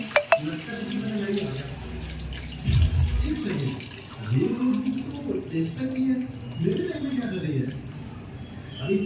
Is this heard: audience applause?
no